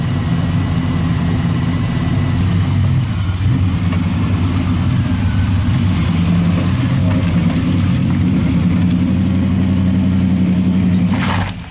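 A 1959 GMC Fleet-Option pickup's engine runs steadily and loud up close, a throaty idle with slight revving rising and falling for about twelve seconds, no voices over it.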